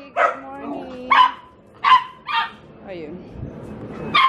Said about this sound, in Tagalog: Maingay ang mga aso ko, guys.